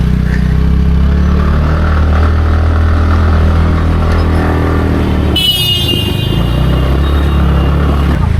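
A scooter engine droning steadily while climbing a hill road near a temple in Barsana, loud and close with continuous road noise and a brief horn-like tone partway through.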